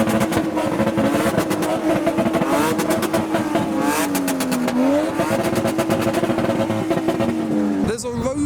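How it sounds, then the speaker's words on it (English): Engines rev hard at a busy car meet, with a Lexus IS among the cars popping and crackling through its exhaust, loud and continuous, over crowd chatter and other revving cars. "There's an IS popping now."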